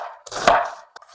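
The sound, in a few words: chopping vegetables with a knife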